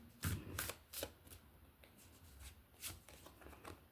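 Tarot cards shuffled and drawn by hand during a pick-a-card reading, with several soft riffling bursts and scattered light card slaps, close and fairly quiet, with no talking.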